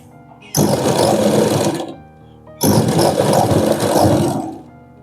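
An electric sewing machine stitches the V-patti on a lined blouse in two loud, steady whirring runs of about a second and a half each, separated by a short pause, close by with no talking.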